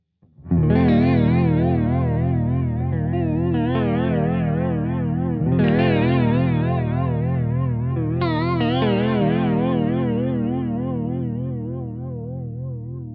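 An electric guitar chord rings out through an EarthQuaker Devices Aqueduct vibrato pedal in triangle mode, its pitch wobbling in a smooth, regular triangle-shaped pulse; the chord is restruck twice and sustains.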